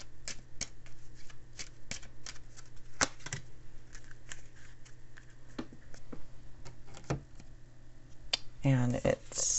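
Oracle cards from a deck are shuffled by hand in a quiet room, producing a steady run of soft flicks and riffling taps at close range, with a brief flurry of rapid card riffles near the end.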